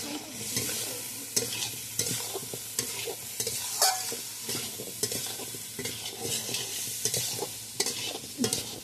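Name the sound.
soybean and potato being stir-fried with masala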